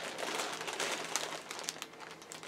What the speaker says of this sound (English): Sorry about the crinkling of the bag.